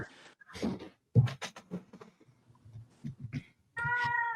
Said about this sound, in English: I'm muted because this cat won't stop, as you can tell